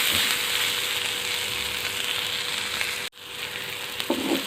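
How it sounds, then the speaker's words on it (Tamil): Onions sizzle steadily in a hot pan while being sautéed for onion chutney, a loud continuous frying hiss with a brief break near the end followed by stirring scrapes, no voices. "இன்னும் கொஞ்சம் நல்லா வதக்கலாங்க."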